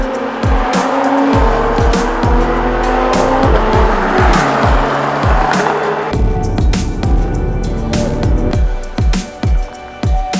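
A Porsche 997 GT3 RS 4.0 pulls away from a bridge in the Scottish Highlands, its engine revving loud and close through a series of rising pulls broken by sharp gear changes, with no talk over it.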